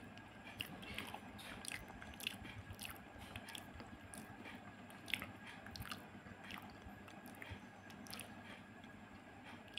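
Someone eating khichdi with kadi, with soft wet chewing and small crunchy bites repeating close to the mic at a quiet level, without talk.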